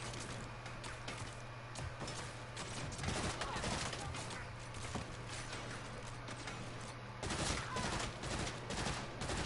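Bursts of automatic gunfire from a newly acquired gun in the Saints Row video game, rapid cracking shots over continuous game background noise and a low steady hum, louder spells near the end.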